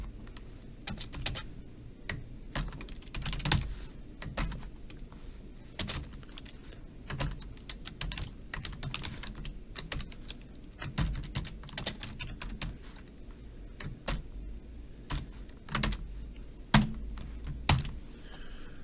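Someone types code on a computer keyboard in quick irregular bursts of key clicks, with occasional louder strokes and short pauses, close and clear with no talk.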